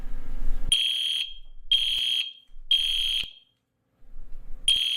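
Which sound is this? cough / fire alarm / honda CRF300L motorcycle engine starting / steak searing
fire alarm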